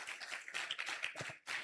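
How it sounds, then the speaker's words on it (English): Short burst of clapping from a small workshop audience, a few hands striking close together in an uneven patter that breaks off briefly before resuming. "let's give her a round of applause"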